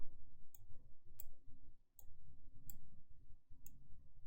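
Five sharp, crisp clicks spaced about a second apart, like a mouse button, over a faint low background hum.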